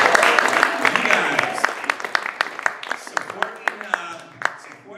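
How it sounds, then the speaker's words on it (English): A crowd at the finals of a comedy competition claps in a short, thinning burst of applause. Murmuring voices sit under it, and the sound fades to a few scattered, sharp individual claps. "Give yourselves a round of applause,"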